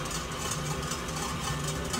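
Stand mixer running as warm water and olive oil are blended for challah dough, a steady low motor hum with constant whirring, even and unbroken, no voices.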